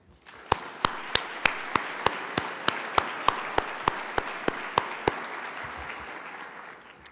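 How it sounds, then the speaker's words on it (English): An audience at the National Trust for Historic Preservation's PastForward 2019 opening ceremony applauds to approve a slate of nominees by acclamation: sustained, moderately loud crowd clapping with sharp individual claps near the microphone, tapering off at the end. "applause."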